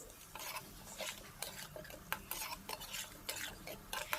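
Ground spices, chilli, cumin and turmeric powder, frying in oil in a pan, quiet sizzle under frequent sharp scrapes and clinks of a metal spoon stirring against the pan, close and irregular.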